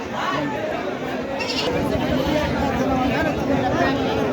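Goats at a busy rural goat market, bleats rising out of a dense, continuous crowd babble and chatter, with many people talking nearby throughout.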